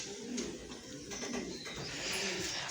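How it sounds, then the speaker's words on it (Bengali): Bombay pigeons coo softly and repeatedly inside their coop, with low rounded calls over a steady rustling background, and no one speaking. "আমার বোম্বাই কবুতর খুব শখের"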